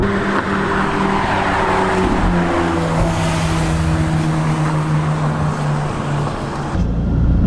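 A McLaren 570GT sports car engine runs loud and steady with a sustained low drone and harmonic tones throughout, ending abruptly near the end.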